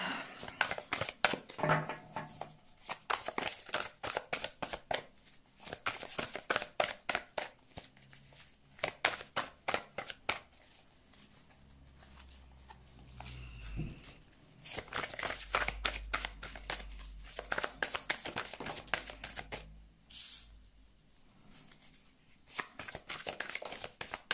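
Tarot cards being shuffled by hand: rapid bursts of crisp riffling and slapping card noise, close and fairly quiet, repeating in several runs with short pauses and a low hum between them.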